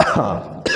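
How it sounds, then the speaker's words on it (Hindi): A single short, harsh cough comes from a male teacher close to the microphone during a classroom lesson, followed by a brief spoken word. "थोड़ी सी खांसी हो गई है"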